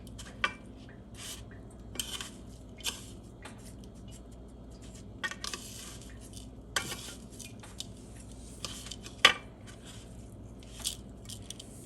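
Chicken tenders pressed and tossed in crushed Doritos in a dish, giving soft crunchy rustles, scattered utensil clicks and occasional sharper taps against the dish, close and quiet with no talking.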